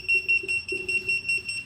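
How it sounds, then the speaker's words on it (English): A shrill electronic anti-theft alarm on an iScooter iX7 Pro electric scooter beeps rapidly in an even, repeating pattern, loud and close. "an alarm goes off, which is pretty cool"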